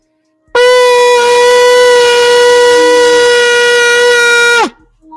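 A shofar is sounded at a Feast of Trumpets fellowship: one long, loud, steady horn blast of about four seconds with a bright harmonic tone, ending with a brief downward bend and cutoff.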